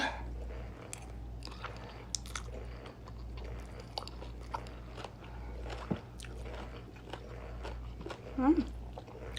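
Someone chews spicy Thai papaya salad (som tam) close to the mic, with soft crunchy bites and wet mastication spread over a steady low background hum, plus one brief louder crunch near the end.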